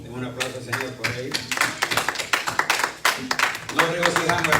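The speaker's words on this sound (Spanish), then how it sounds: "Den un aplauso al Señor por ello." A church congregation bursts into clapping and applause, a dense run of hand claps with voices mixed in throughout.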